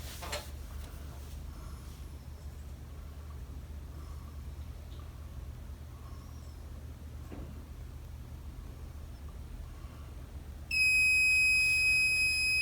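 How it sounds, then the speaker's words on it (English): The low liquid alarm on an OMNTEC oil water separator sounds abruptly near the end as a steady, loud electronic buzzing tone, following a long stretch of quiet room hum. "you still would have your low liquid alarm"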